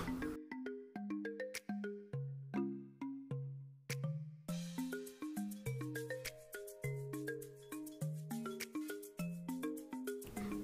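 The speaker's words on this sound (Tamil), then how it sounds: "பாஸ், உங்களுக்கு ஃபோன்." A phone ringtone for an incoming call plays on its own, a bright repeating melody of plucked tonal notes that runs steadily for about ten seconds, moderately loud, with no talking over it.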